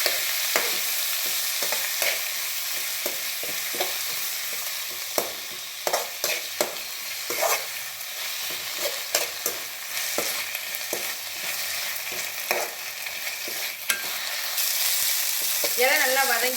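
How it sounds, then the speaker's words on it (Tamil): Thuthuvalai leaves sizzle and fry in hot oil for a chutney, with a constant hiss broken by regular scraping taps of a stirring spoon against the pan. The sound is close and steady, with little talk. "அதே நல்லா அந்த எண்ணெயில் நல்லா வதக்கிடணும்"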